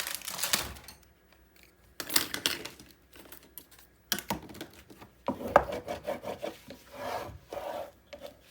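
Tape being smoothed down by hand on an 8x8 paper scrapbook album page to push out air pockets: several separate bursts of rubbing and rasping, close and moderately quiet, with short pauses between.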